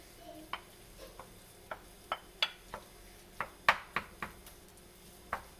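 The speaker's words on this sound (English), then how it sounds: "Then you're going to add in the tofu." Tofu being sautéed in a pan for vegan scrambled tofu: a dozen sharp, clear taps and scrapes from a utensil against the pan, spaced unevenly over a quiet background.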